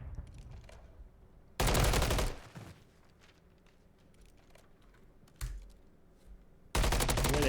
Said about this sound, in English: There's some gun battles going down the Junkyard Hill so far for the side of Old Family.